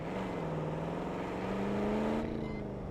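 A car in the video game Call of Duty: Black Ops 6 drives past with a steady engine hum that rises slightly in pitch and then cuts off abruptly, close and fairly loud, with no talking.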